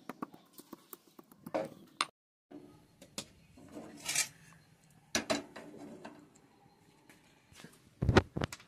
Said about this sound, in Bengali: কিশমিশটাকে ছোট ছোট পিস করে নিচ্ছি কেটে।